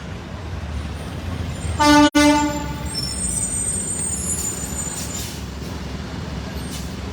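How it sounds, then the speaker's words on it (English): Passing truck gives a single loud, short horn blast on a roadside, the honk standing out sharply over steady traffic rumble before fading back into road noise. "Gave us a honk of approval."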